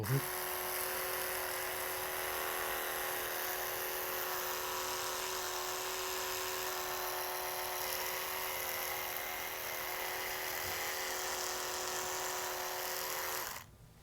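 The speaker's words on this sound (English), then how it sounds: "I'll just show you the best way to use the electric toothbrush" An electric toothbrush runs steadily at close range while cleaning around a dental implant on an overdenture. The motor's even buzz holds for about thirteen seconds, then the brush cuts off abruptly near the end.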